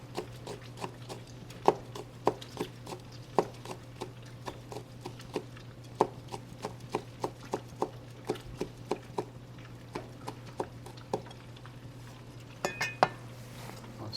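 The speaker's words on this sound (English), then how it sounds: "I'm gonna do chiffonade." A knife chops red Thai chili into fine chiffonade on a board, making quick, sharp, faint taps in an irregular run over a steady low hum, with no talk.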